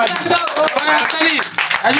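Audience clapping at a carrom tournament prize ceremony, a steady mixed patter of hands close by with people talking loudly over it throughout.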